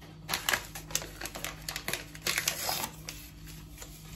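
A packet of whipped cream is torn open close by, giving a burst of crinkly, crackling plastic rustles and sharp snaps that come in quick irregular clusters, with no voices.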